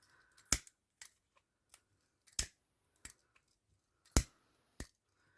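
Scissors trim ribbon for a geo wave hair bow in a run of about seven crisp, close snips, spaced irregularly with brief quiet gaps between cuts.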